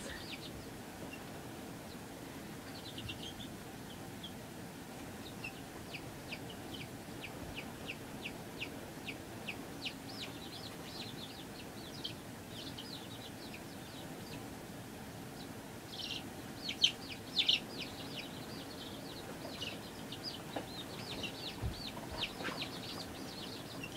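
Small bantam chicks indoors give a faint, quick run of high peeping clucks, steady throughout with a few slightly louder calls near the end.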